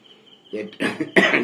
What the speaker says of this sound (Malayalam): ഇടയ്ക്ക് ചുമ ഉണ്ടാകും ക്ഷമിക്കുക അത് അസുഖത്തിന്റെ പാർശ്വഫലമാണ്